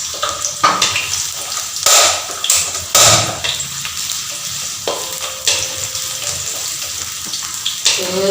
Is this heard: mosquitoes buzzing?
no